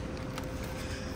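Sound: air conditioner noise picked up by microphone

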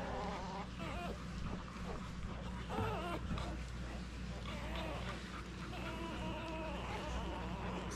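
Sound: newborn English Springer Spaniel puppies whimpering while feeding

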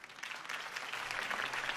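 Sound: crowd applause in video game Batman: The Telltale Series

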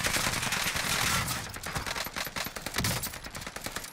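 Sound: gunfire from a video game

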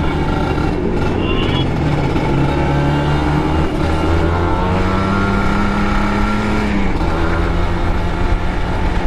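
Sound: supermoto motorcycle engine with ecti racing aftermarket exhaust

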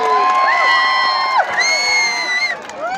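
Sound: crowd cheering and clapping at a rally

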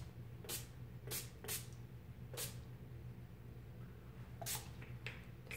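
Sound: makeup finishing spray being sprayed

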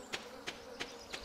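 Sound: bees buzzing

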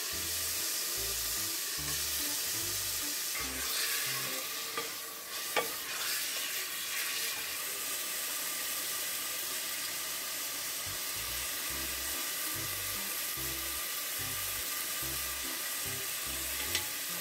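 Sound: chicken frying in a pan with saffron and annatto

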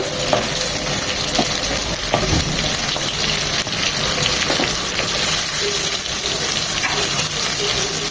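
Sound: potatoes and papaya frying in a pan

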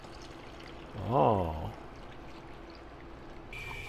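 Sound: pouring color developer back into film developing tank

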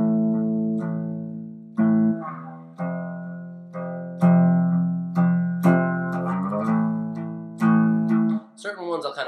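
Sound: guitar chords strummed with downstrokes

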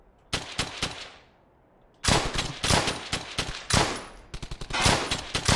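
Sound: gunfire from the video game Brothers in Arms: Hell's Highway

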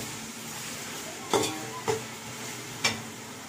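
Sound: onions with ginger garlic paste sautéing in a pan

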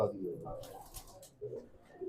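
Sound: pigeon cooing

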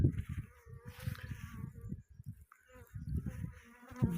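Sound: honeybees buzzing around hive

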